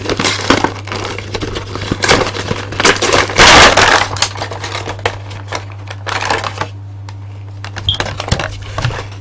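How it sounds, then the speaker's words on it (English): Cardboard packaging of a Marvel Legends Tigershark action figure being torn and ripped open, with loud crinkling, crackling bursts and scraping that swell in the middle, then sporadic sharper clicks and rustles near the end. "Let's ravage the packaging."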